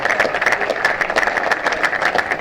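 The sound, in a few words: cricket crowd applauding a departing batsman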